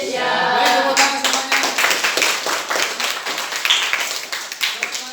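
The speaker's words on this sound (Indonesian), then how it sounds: "Baik, tepuk tangan" A group of school participants clapping hands together after a pledge, sharp percussive claps in a brisk, fairly regular rhythm that gradually loosens and thins out, fairly close and loud with no talk over it.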